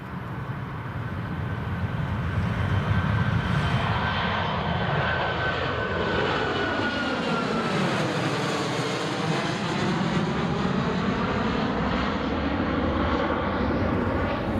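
A TUI passenger jet taking off at Newcastle International Airport, a loud rising engine roar that swells to a sustained powerful thrust with a whine shifting in pitch as it passes.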